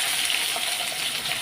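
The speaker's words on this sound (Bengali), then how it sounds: "এদিকে আমি জিরে আর তেজপাতা ফোড়ন দিয়ে আলুটা ভাজা বসিয়ে দিয়েছি" Potatoes frying in oil tempered with cumin seeds and bay leaf, a brief, close, bright hiss of sizzling that stays even and steady.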